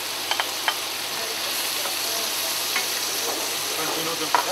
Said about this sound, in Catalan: Veus, ara ja tirem la pataca i la carlota.